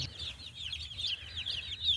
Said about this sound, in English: So they are the Cornish rock cross meat chickens.